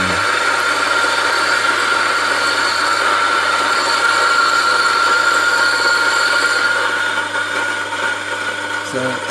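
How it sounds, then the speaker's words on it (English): Electric coffee grinder with a bellows grinding coffee beans for a coffee con leche, a loud continuous whirring drone with a low mechanical hum, steady throughout and ending with a brief clatter. "the grinder's grinding the coffee"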